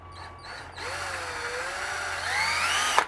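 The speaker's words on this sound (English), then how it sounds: "I'll start the hole with a small drill bit, about 1/8 inch." A power drill fitted with a small 1/8 inch bit bores a hole for a homemade train horn, its motor whining up after a short start and running steadily, pitch shifting as it cuts, then stopping.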